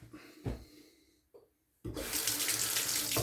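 Tap water runs into a sink to wet a dark stag-handled razor before shaving with grapefruit shaving cream; a short splash and faint trickle come first, then the faucet opens into a loud, steady, close rush that continues to the end.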